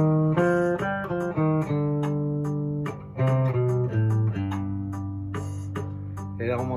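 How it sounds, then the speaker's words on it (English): A melodic major scale played slowly, one sustained note after another, with some notes overlapping as they ring. The sound is close and moderately soft, with a brief wavering flourish at the very end. "Last one I want to show you is the melodic major."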